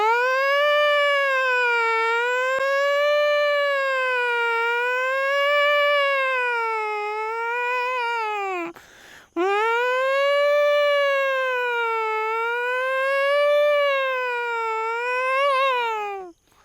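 A voice imitates a police siren, a steady wailing rise and fall held for several seconds, with a brief break midway before the wail resumes.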